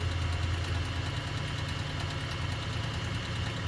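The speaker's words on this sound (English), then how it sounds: "That's how you sew. Just give it a little bit of gas." Singer 404 sewing machine running as it sews, a steady close motor hum with a rapid even mechanical chatter throughout, no talk.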